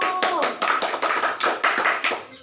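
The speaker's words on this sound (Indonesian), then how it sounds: "Tepuk tangan kelompok 1." Classroom applause for group 1 during a grade VI lesson: students clap in a quick, uneven rhythm of distinct claps, close and fairly loud, with a brief voice near the start.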